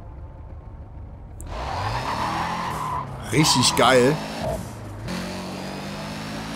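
A tuned Subaru Impreza WRX STI engine in the video game Need for Speed World revs and whines with tire squeals, rising and falling in pitch, while someone speaks briefly over it.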